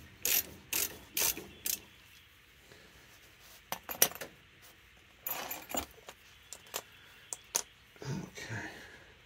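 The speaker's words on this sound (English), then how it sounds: "go ahead and take the banjo bolt loose" A hand ratchet wrench loosens the rear brake hose banjo bolt on a 2004 Dodge Ram 1500, giving close, crisp bursts of clicking strokes with short pauses between them, alone without talk.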